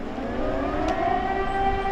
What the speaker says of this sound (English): An air raid siren warns of some threat in the sky